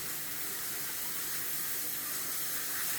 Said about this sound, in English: right there it's actually coming through bamboo pipes out of the ground behind me